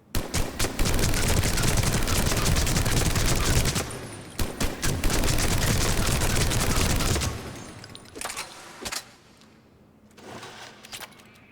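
Rapid automatic bursts from the Typhoon gun in Mass Effect 3, a dense loud rattle of fire for several seconds, a short pause, another long burst, then scattered single impacts and quieter shots trailing off.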